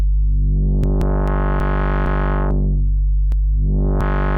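Synthesizer bass holding a loud, continuous low note while the filter knob is turned up, so the tone keeps sweeping brighter and duller in a wah-like arc, with brief clicks along the way and no voices.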